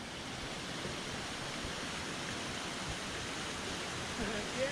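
Water of the Linville River flows in a steady, soft rushing hiss, fairly faint and unbroken, like a distant stream or small cascade in a wilderness gorge.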